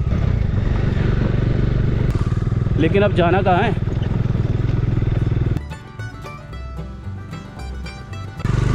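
A motorcycle engine rumbles steadily on a rough mountain track near the Tibet–Arunachal border, loud and close for most of the stretch, then drops lower before surging again, while someone talks over it.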